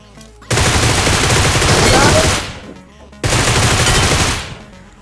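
Two long bursts of automatic gunfire in the mobile shooter BGMI (PUBG Mobile) are loud, dense and rapid, separated by a short pause, and each one fades out at its tail.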